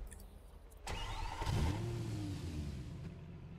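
A car engine starts in a roleplay video game: a sharp crank at first, then a rising whine that settles into a steady mid-pitched idle, alone and fairly close.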